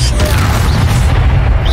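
A Confringo spell explosion in Hogwarts Legacy combat lands as a loud, dense booming blast that fills the short moment, with voices mixed in.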